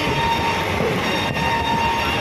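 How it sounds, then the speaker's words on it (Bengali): A train running at high speed, heard from a seat beside the window: a steady, loud rushing rumble that persists throughout with no clear breaks. "স্পিডে চলছে ভীষণ হাই স্পিডে ট্রেন চলছে"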